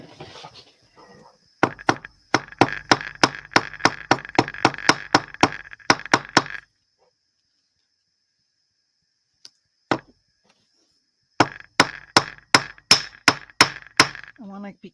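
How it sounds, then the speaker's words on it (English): A hammer taps on tile in rapid even bursts, a long run of sharp near knocks, a pause with a couple of single strikes, then another quick series. "I want to be careful about hammering too hard or I'll"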